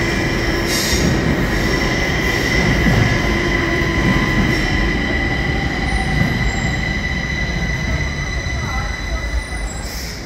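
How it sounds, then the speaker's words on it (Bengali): Train pulling into Stockholm railway station, a steady loud rumble of rolling wheels with high-pitched wheel squeal and screeching, close by and continuous throughout. "ওই দেখেন, ওই লাইনে আরেকটা ট্রেন চলে আসছে।"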